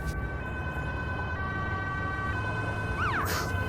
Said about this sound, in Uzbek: Tez yordam yo'lda.